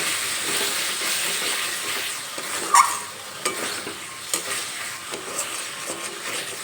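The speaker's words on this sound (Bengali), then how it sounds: "একটু নেড়ে চেড়ে নেব যাতে মশলাটা কড়াইতে লেগে না যায় বা পুড়ে না যায়" Spice masala being stirred in a pan with potatoes while cooking a cauliflower and egg dish, a steady sizzle broken by a few sharp scrapes and clinks of the spoon, close and moderately loud, no voices.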